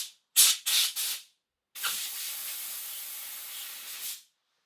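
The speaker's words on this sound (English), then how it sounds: "I'm going to give that a blowout of some compressed air" Compressed air blasting out a Yanmar 1GM10 marine engine part: three short sharp hissing bursts, then a pause and one long steady blast, close and loud with no talk.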